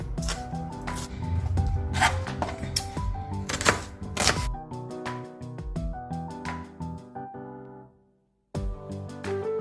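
A knife dices onion very small on a board, with rapid close chopping taps in quick bursts that thin out and stop briefly before resuming.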